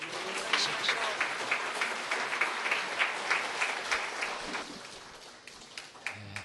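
Applause from a Korean church congregation greets a pastor stepping up to give a congratulatory address, a steady patter of many hands clapping throughout, thinning slightly toward the end.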